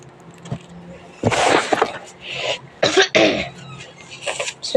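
Several harsh coughs and throat-clearing bursts from a person with a cold, coming in uneven clusters close to the mic with short quiet gaps between them.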